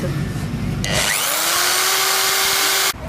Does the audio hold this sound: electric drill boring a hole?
yes